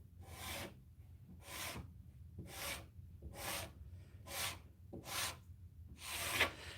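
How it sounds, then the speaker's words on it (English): A texture tool drags through wet paint to make a burlap-style finish, seven rhythmic rasping scrapes at a steady pace, close and fairly loud, with no talking. "It resists the scratching of the texture tool in some spots and gives you a little bit more inconsistency"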